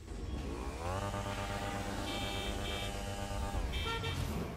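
Car horns honking in the video game Grand Theft Auto Online, a sustained blaring horn tone over engine and traffic noise, with further short horn blasts near the end.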